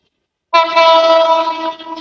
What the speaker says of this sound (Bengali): ও ট্রেন আসতেছে অপোজিট থেকে ট্রেন আসতেছে